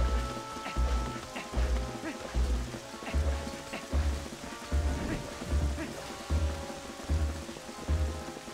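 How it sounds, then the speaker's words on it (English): Rain falls in the video game The Legend of Zelda: Twilight Princess HD as a steady patter, layered over a regular, deep thumping pulse. "Oh, it's raining now."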